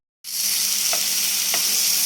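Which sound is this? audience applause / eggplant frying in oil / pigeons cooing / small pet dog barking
eggplant frying in oil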